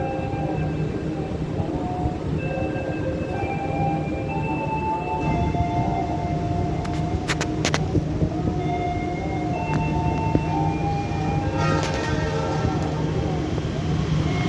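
A passenger train on the Surabaya Pasar Turi to Jakarta route rumbles steadily past on the railway line near Karawang station in West Java, with tonal horn-like notes rising over the rolling noise while someone talks.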